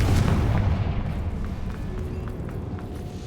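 Confringo fire spell in Hogwarts Legacy going off as a deep booming blast at the start, then a rumbling tail that fades gradually, with a few scattered crackles.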